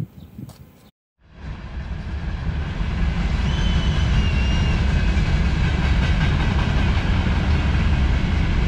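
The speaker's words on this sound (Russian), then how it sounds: "А тут, однако, часто ходят поезда." A long, very large freight train passes close at Mamlyutka railway station in northern Kazakhstan, building from a brief gap into a loud, sustained rumble with rolling wheel clatter that holds steady to the end.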